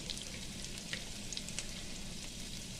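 Kashmiri chili powder sizzling in hot oil in a pan while mutton masala is being cooked, giving a steady, close frying hiss with a few faint stirring clicks and no talk.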